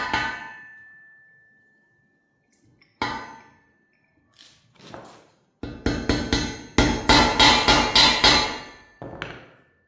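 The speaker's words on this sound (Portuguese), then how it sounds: "vou bater com a marreta até que ela se encaixe nesse tubo" A sledgehammer strikes a metal part to fit it onto a tube during an engine rebuild: an isolated ringing clang, a pause, another clang, then a rapid series of loud, close metallic blows that ring out.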